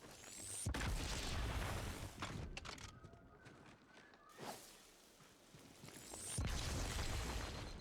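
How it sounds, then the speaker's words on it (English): A grenade blast in Halo, set off for a grenade jump, sounds as heavy booming bursts with a roaring rumble, then a quieter stretch of game ambience and footsteps before another loud burst near the end. "so I just went ahead and grenade jumped it"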